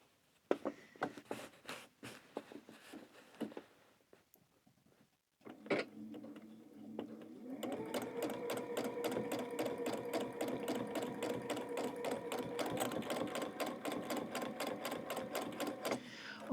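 A sewing machine does free-motion thread painting on quilting fabric, first in short bursts of rapid needle clatter, then after a brief pause in a steady, close, continuous mechanical chatter.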